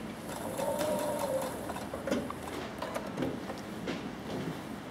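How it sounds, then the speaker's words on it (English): A sewing machine stitches quilt binding with cotton thread, a close, steady mechanical whirring with a rapid rhythmic chatter and small shifts in pace as it backstitches. "then I'm going to backstitch"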